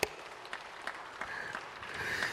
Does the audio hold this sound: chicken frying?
no